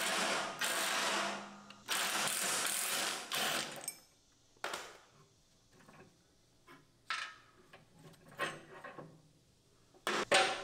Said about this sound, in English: just push upwards and then hit it with the impact gun